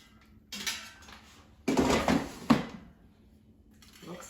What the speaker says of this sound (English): Let's take them out of the air fryer.